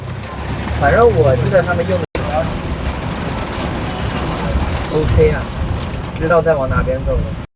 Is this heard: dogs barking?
no